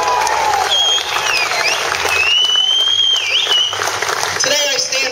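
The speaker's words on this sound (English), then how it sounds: "You should give yourselves a round of applause." A crowd at a Tea Party rally in Indiana, Pennsylvania, applauds and cheers loudly and continuously, with dense clapping and some high whistles rising over the noise.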